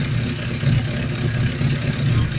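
A Suzuki 750 motorcycle engine idles steadily up close, a rough low rumble with a regular pulsing throb and no voices.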